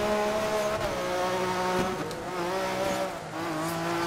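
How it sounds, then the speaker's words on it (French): A revving racing-car engine in the video game Dirt 3, steady whining tones rising and falling as it shifts, continuous and fairly loud, with faint tire squeal. "Faut voir le bruit de voiture, hein,"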